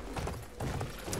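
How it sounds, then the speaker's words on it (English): A war horse gallops in the Battlefield 1 video game, with quick irregular hoof clops over loud game noise, heard close for just over a second. "I got a War Horse."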